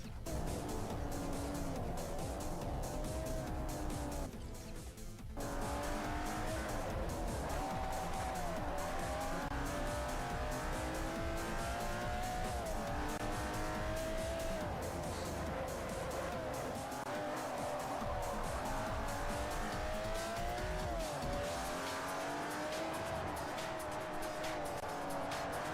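A Ferrari race car in Forza Motorsport 4, engine roaring and revving up and down through gears with squealing tyres as it skids into oversteer and off into the grass; loud and continuous, with a brief drop around the fifth second.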